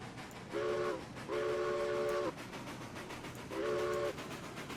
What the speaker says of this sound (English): I'm just messing around at the station, whistling all over the place.